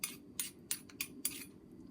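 A utensil stirring almond and lemon bar ingredients in a bowl, making five quick, evenly spaced scraping clinks, quiet and close, with no talking.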